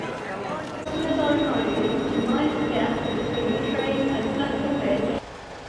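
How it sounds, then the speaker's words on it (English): A train on the route from London King's Cross to Peterborough rumbles with a dense, steady roar of wheels and carriage noise that swells in and cuts off abruptly, with faint voices mixed underneath. "I'm going to get on the train now"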